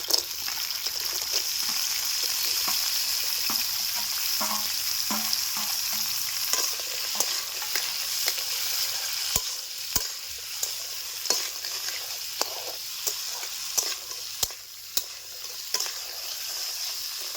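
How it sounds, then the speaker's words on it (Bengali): Crabs frying in hot mustard oil in a wok, cooked village style, make a constant close sizzle broken by frequent sharp clicks and scrapes of stirring, without any voices. "তেল গরম হয়ে গেছে কাঁকড়াগুলিকে হালকা বেজে নেব"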